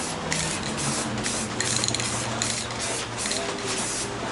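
An aerosol spray paint can hisses steadily onto a motorbike part in light passes, a continuous close hiss with slight surges as the can sweeps back and forth.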